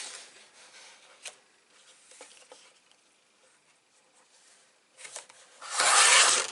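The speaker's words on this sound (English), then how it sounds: "I could go through a whole pack in no time and get this done with this trimmer" A paper trimmer slicing cardstock: a few soft scraping strokes and light taps, then a louder sustained rasping cut near the end, close and without talk.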